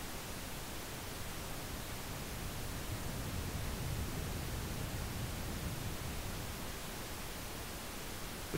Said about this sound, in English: this is what 100 hertz is gonna sound like when I boost it